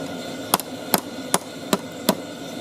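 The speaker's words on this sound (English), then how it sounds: "Use a divot of the wood and the ball part of your ball peen hammer" A ball peen hammer strikes a leaf laid on a divot in oak wood, five sharp, evenly spaced knocks about every 0.4 seconds, close and loud, with no talking.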